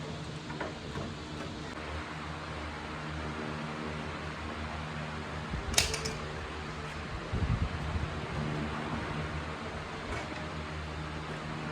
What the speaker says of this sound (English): got some fans going